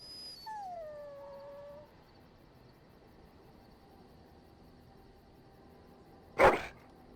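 A dog companion in the fantasy video game Dragon Age: Origins gives a drawn-out howl that falls in pitch, followed after a quiet stretch by a single sharp, loud bark.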